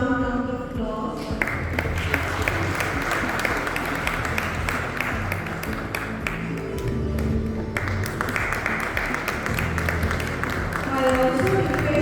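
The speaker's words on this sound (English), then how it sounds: "May we welcome this moment with a warm round of applause." A conference audience gives a warm round of applause, a dense, continuous wash of many hands clapping at an even level throughout, with some tonal background sound at the edges.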